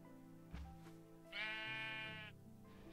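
A Minecraft sheep bleats, a short muffled bleat followed by a longer wavering one, close and clear over quiet game ambience.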